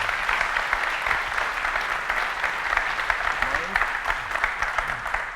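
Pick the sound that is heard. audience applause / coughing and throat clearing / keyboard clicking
audience applause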